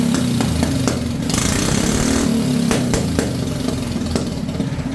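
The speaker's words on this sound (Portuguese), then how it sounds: "Olha só os fogos no escapamento." A kart cross engine fitted with a Honda Biz carburetor runs steadily and loudly while its exhaust backfires with several sharp, irregular pops and cracks close by.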